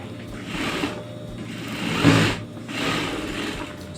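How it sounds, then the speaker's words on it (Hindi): Sewing machine stitching lehenga fabric for a Rajputi outfit in a few short runs, close and steady with brief pauses between bursts. "सबसे पहले मैं एक कच्ची सिलाई लगा लेनी है"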